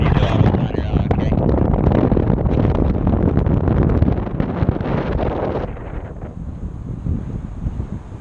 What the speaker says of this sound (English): The wind is straight out of the east in the landing zone, Brad.